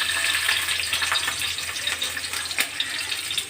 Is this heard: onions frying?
yes